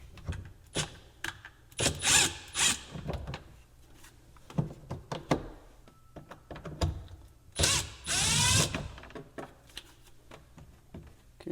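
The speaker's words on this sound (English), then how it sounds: "just going to take out these 2 screws at the bottom" A screwdriver works screws out of the bottom panel of a Samsung fridge that is icing up at the bottom, giving quiet close clicks, scrapes and rattling handling noises in irregular bursts with pauses between.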